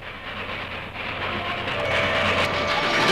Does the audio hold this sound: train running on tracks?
yes